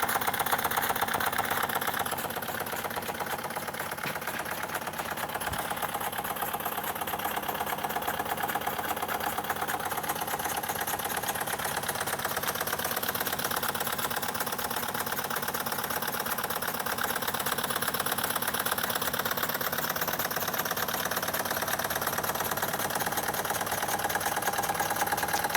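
Jensen 25/25G collectors all-cast live steam plant running over a strong heater under the boiler, giving a steady mechanical whir and fine rapid ticking that holds at an even level throughout, with no talk.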